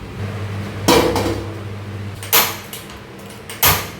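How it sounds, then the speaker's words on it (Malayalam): Metal pots and dishes clatter in a home kitchen during washing, with three sharp clanks over a low background hum, close and fairly loud, with no speech. "ഇത്രയും പാത്രങ്ങൾ കഴുകാനുണ്ട്."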